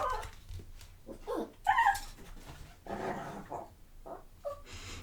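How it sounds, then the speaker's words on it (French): A neighbour's dog barks and whimpers in short, fairly distant bursts, with yips and a low growl in between. "C'est un chien des voisins."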